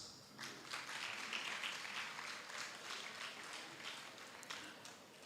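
At a college prize-giving ceremony, an audience claps in a steady, even patter that sounds faint and somewhat distant and continues throughout, with no talking over it.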